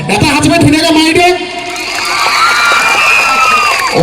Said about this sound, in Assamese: গতিকে এটা হাত চাপৰি ধুনীয়াকৈ মাৰি দিয়ে